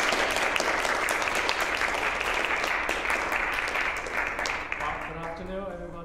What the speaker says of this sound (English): And please give a warm applause to Mr. Huang.